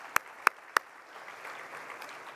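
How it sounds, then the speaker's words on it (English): At the LA84 Foundation Play Equity Summit, three sharp, close hand claps ring out in quick succession, followed by faint, scattered clapping from the audience further off. "let's just give everybody a round of applause for getting here"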